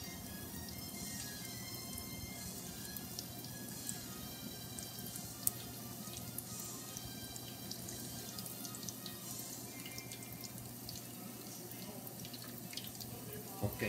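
Tap water runs steadily into a kitchen sink while hands are washed, a continuous soft splashing wash with small drips and clinks, fairly quiet and unbroken throughout with no voices.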